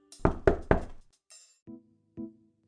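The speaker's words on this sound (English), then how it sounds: "she heard the knock on the door" Three quick, sharp knocks sound on a door in a Cinderella puppet-theater show. After a short pause come two softer, hollow, lower thuds, all close and clear with no voices.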